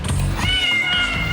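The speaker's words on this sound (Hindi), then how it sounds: "ये बिल्ली बाहर की दुनिया से आई है।" A cartoon cat in a children's animated series gives a loud, close, drawn-out meow that rises and wavers for over a second, alone with no talk.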